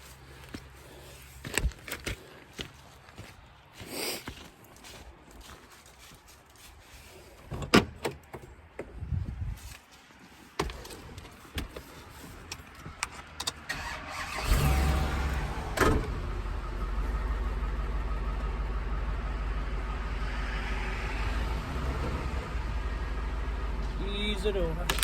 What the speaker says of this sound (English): we'll just use the truck and pull her over